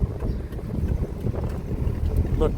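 Cold wind blows on the outskirts of Vientiane, Laos, producing a loud, steady low rumble of buffeting that continues through the whole stretch with no clear breaks.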